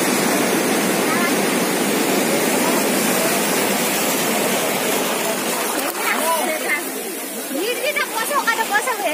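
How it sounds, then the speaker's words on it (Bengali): Big sea waves break and wash on Digha beach in a continuous loud roar of surf, with a crowded shoreline and voices and chatter audible over the water. "আর বড় বড় ঢেউ আছে"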